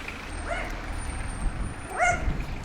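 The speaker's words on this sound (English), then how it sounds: "Oh, there's a scary guard dog." A guard dog near an abandoned-looking hotel in Vila Franca de Xira, Portugal, gives two short, moderately distant barks or yelps about a second and a half apart over low outdoor rumble.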